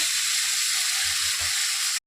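Big fish belly pieces sizzling in hot oil in a pan, a dense, steady close hiss of frying that runs unbroken for about two seconds, with a few low bumps near the end.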